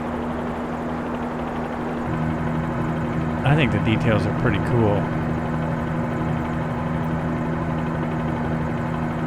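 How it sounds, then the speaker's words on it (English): A helicopter engine holds a steady droning hum throughout, and someone speaks briefly over it midway. "Just checking out all the different parts of this helicopter."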